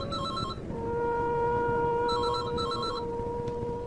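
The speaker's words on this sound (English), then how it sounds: "he listened to the ringing tone." An electronic telephone ringing tone trills in repeated bursts with a steady hum underneath, fairly loud and close, with no voices.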